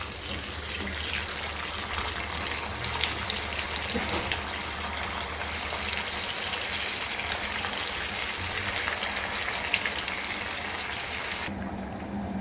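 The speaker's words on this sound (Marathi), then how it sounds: "मी लोखंडाच्या कढईत तेल गरम ठेवलं आहे आपलं तेल छान गरम झालं आहे आता आपण त्यामध्ये एक एक वडी टाकूया" Chicken kheema vadi pieces frying in hot oil in an iron kadhai give a dense, steady, close crackling sizzle that holds evenly throughout, dropping slightly right at the end.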